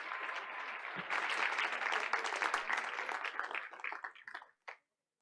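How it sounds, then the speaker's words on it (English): Applause at a board of education meeting, dense clapping from the assembled audience that builds quickly, holds steady for several seconds, then tapers off into a few scattered final claps. "Let's give her a round of applause."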